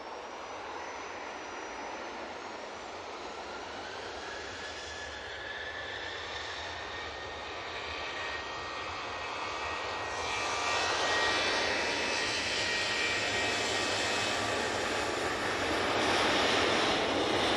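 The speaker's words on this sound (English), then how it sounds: "Virgin Atlantic just arriving." A Virgin Atlantic airliner arrives at Manchester Airport, its engine roar a steady broad rumble that swells louder toward the end, heard alone without talk.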